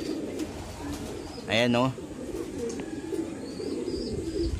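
Banded racing pigeons at a Cavite loft in the afternoon give a single loud, brief coo-like call near mid-clip, over a steady hiss of background noise, with someone speaking briefly nearby.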